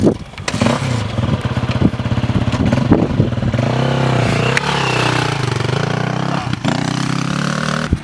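A motorcycle revs loudly and close by while being ridden in wheelies on a rural road in Idaho. The engine note surges and drops repeatedly over clattering mechanical noise.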